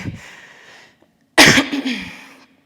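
A single sharp, loud cough bursts out after a soft breathy exhale and a short pause, followed by a trailing rasp.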